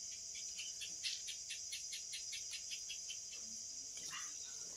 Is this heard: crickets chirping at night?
yes